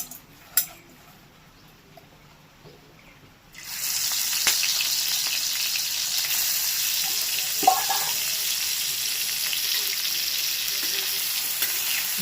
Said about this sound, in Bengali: এবার চিংড়িগুলোকে ভেজে নেব।